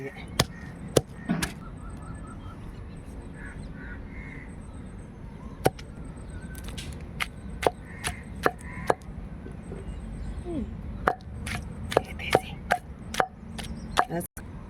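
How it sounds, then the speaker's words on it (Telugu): Green chillies are pounded with rock salt in a stone mortar, making sharp irregular thuds spread across the stretch over a quiet background, with faint bird calls between strikes. "పచ్చిమిరకాయలు రోట్లో వేసుకున్నాను కొంచెం కల్లుప్పు పేసుకొని దంపుకుంటే"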